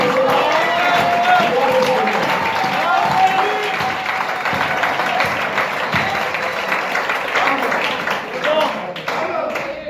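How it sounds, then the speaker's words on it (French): Church congregation applauds during a sermon, a sustained wash of clapping with crowd murmur and a voice calling out over it, staying lively for the whole stretch. "Est-ce qu'on peut applaudir cela?"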